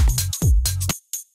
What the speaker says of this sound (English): So this is just a simple tambourine sample.